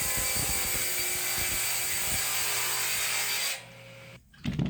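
A spinning saw blade slices through a sheet of plywood, a loud, steady whine and roar for about three and a half seconds before the cut ends and the sound drops away.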